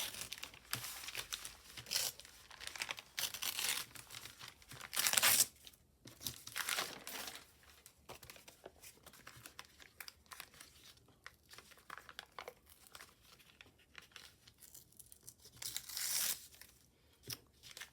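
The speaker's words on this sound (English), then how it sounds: "Going to rip down the side." Paper tears and crinkles in short bursts while being ripped down the side of a handmade junk journal pouch, faint and close, with quiet handling rustles between rips and no talk.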